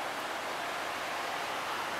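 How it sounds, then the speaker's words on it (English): A river flows beside a road in pretty countryside, making a steady, even rush of water that fills the whole clip without a break. No voices are heard over it. "It's really nice down here. Look at this river."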